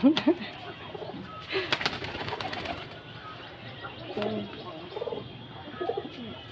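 Soft, repeated pigeon coos close by, with a few wing flutters and light chirps, and faint voices in the background.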